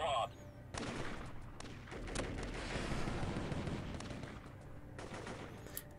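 Gunfire in the video game Warfare, dense rapid bursts of shots blending into a sustained loud fusillade that rolls on for several seconds before tapering off.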